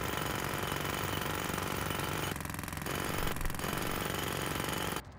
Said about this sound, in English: Look at the jackhammer.